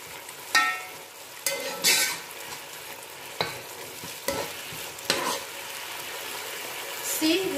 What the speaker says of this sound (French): on laisse cuire un peu pour que les poivrons puissent être bien cuits